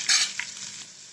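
A short burst of sharp crackling and popping as mustard seeds hit hot oil, a few quick spits that fade within a second.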